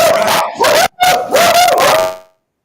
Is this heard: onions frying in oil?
no